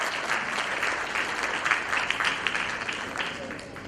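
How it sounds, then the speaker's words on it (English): Audience at an educational merit prize award ceremony gives loud, continuous applause, thick overlapping claps with a few sharper peaks, holding steady for a few seconds before tapering. "It needs a great applause."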